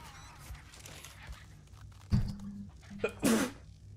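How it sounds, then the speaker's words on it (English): A single loud sneeze straight into a close microphone during a gaming session, preceded by a sharp thump as the mic is smacked, both sudden against a quiet room background. "I tried moving my microphone, but I ended up just smacking it. and then sneezing like right into it."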